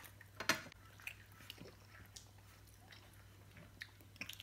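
Quiet chewing of dinuguan, Filipino pork blood stew, with a few soft, moist bites and faint spoon clinks scattered through a low background hum.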